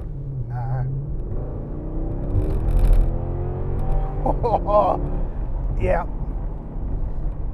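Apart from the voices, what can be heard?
Mercedes AMG engine accelerating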